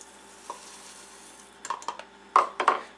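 Chunky oatmeal toffee cookie dough studded with toffee bits is stirred in a bowl, starting with a faint scrape and building to several louder, thick, sticky mixing strokes toward the end, with no voices.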